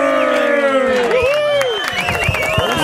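A studio audience on a television program cheering and whooping for a guest: loud, overlapping shouts and excited voices fill the room without pause, with rising and falling whoops layered over a dense crowd roar.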